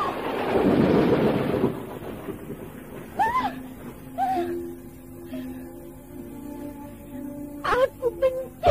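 A thunderclap from a radio horror drama rumbles loudly in the opening seconds, a broad low roar that fades out, followed by voices speaking.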